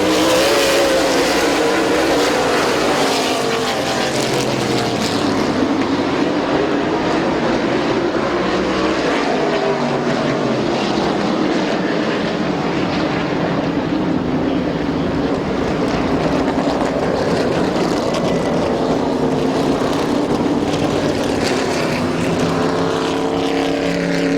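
Outlaw Super Late Model race cars roar away at the start of a 50-lap feature at Midvale Speedway's Fall Classic, a loud, sustained pack of engines revving and droning continuously with no talk.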